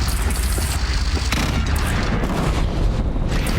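Heavy, booming video game cannon blasts from Horizon Zero Dawn roll over a dense, noisy battle din, a steady thundering barrage with no clear pauses.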